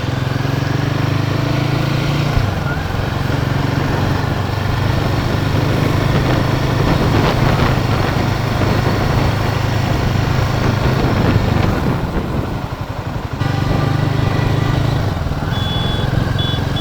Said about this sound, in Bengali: হাইওয়েতে কিন্তু দুরন্ত পারফর্মিং বাইকটা।